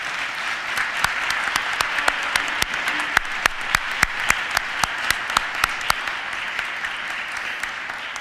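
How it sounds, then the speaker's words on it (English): A crowd applauds steadily at a university commencement ceremony, a dense wash of clapping with a few sharp, distinct claps standing out throughout. "Please join me in a round of applause for all of the families and friends"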